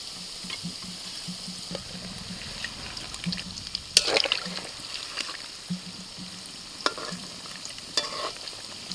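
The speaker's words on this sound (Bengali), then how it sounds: "প্রথমে এই কটাই ভাজি, তারপরে বেশি করে দেবো।" Sweet potato pitha with kheer filling frying in lightly heated oil over medium flame: a soft, steady sizzle with occasional clinks and scrapes of stirring, close and moderately quiet, no speech.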